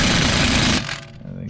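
Power impact wrench rattling hard and loud as it runs nuts onto a Toyota strut and suspension assembly, then cutting off after under a second into a quieter tail.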